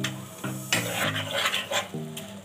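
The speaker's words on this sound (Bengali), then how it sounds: "টক দই দিয়ে কিন্তু অনবরত নাড়তে হবে" Spices and sour yogurt stirred together in a pan for chicken tehari, with repeated close scraping and clinking of a spoon over a low sizzle, in short uneven strokes.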